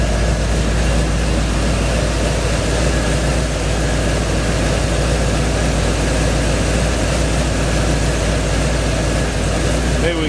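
LS-swapped 1957 Chevy engine idling high while warming up, a steady loud low rumble throughout, with no break.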